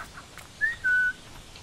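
Within the game Fable, someone whistles twice in quick succession, a short upward chirp and then a steady sustained note, fairly faint over a quiet ambient backdrop.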